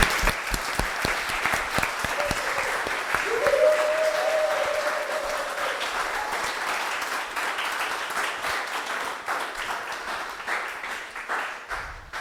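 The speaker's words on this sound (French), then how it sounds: "Alors, vous pouvez les applaudir bien fort." A church congregation claps for newly baptised members at a baptism service, with the applause sustained and fairly even for several seconds. A tone sounds briefly early on, and the clapping continues at moderate volume.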